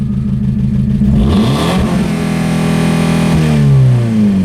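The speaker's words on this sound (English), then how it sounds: "So it's definitely starting to sound like a modern day diesel." A car engine running with brake fluid added to the motor revs loudly and continuously, a rough, rattly drone like a modern diesel, rising and falling close up with no talk.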